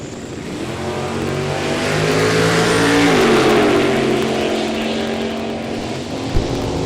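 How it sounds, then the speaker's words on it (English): Pinto and Camaro drag racing at a dragway, engines revving loud and close with a rising roar through the launch, then holding a steady drone; no talk. "1 second head start for the Pinto against the Camaro."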